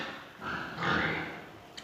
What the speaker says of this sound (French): Donc ça, c'est des porcs qui s'engraissent très vite.